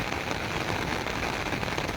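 Heavy, steady downpour in Taunsa Sharif, Pakistan, a dense continuous hiss of rain drumming on surfaces with no pauses or voices, close and fairly loud throughout.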